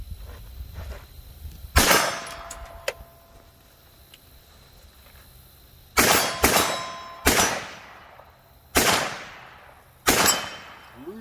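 Five loud gunshots from a 9mm carbine ring out in the woods at irregular spacing, each a sharp crack with a ringing tail. A softer shot comes first, then a cluster of three and two more toward the end.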